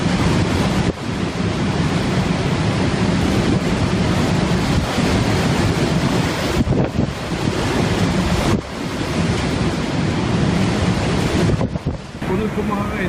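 Big ocean waves crash and roar continuously, heavy surf with strong wind buffeting the microphone, surges rising and falling over thirteen seconds.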